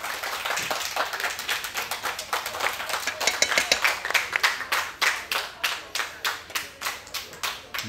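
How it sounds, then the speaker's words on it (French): A small group applauding indoors, with dense claps that later settle into a slower, even rhythm of distinct close claps before ending. "Allez, sous vos applaudissements."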